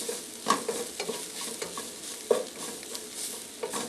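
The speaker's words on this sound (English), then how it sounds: "we're going to fry those spices just a few minutes" Curry spices frying dry in a very hot pan for a coconut crab curry: a continuous close sizzle broken by repeated scraping and stirring strokes with a few sharper clinks, with no talking.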